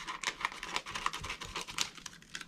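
Plastic cup wrap material being cut away by hand, giving soft crinkling and crackling bursts in an irregular patter, close up and fairly quiet, with no talking.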